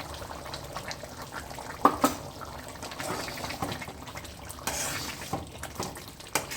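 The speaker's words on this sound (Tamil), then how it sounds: "இது கூட நம்ம நெய் எடுத்து வச்சுருக்கோம்ல, அதை சேர்த்துடலாம்." Ghee is poured into a pan of carrot halwa, a close, continuous liquid gurgle and sizzle with scattered clinks and stirring scrapes throughout.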